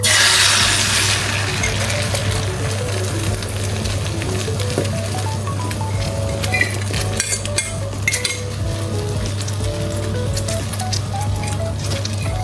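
Beaten egg seasoned with salt and pepper hits a hot pan for egg Manchurian, giving a loud steady sizzle and frying hiss with a few spatula clinks and scrapes over a constant low hum.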